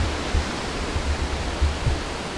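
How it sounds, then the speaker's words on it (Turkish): Waterfall pouring through a canyon in Turkey's Western Black Sea region, heard as a steady, full broadband rush of falling water with low rumbling swells, loud and continuous, with no voices. "Su sesi çok fazla geliyor."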